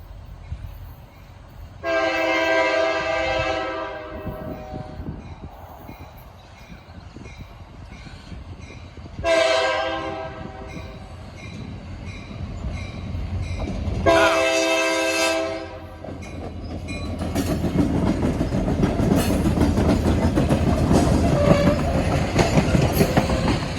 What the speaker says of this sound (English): K3LA horn.